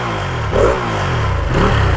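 A 2020 Ducati Panigale V2 with a 955cc engine and about 300 miles on it revs up close by, rising in two strong surges over a steady, loud mechanical drone.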